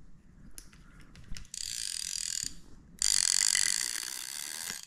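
An old fishing reel's ratchet clicks in rapid buzzing bursts as line is pulled through, two long close runs of clicking with brief handling noises between them.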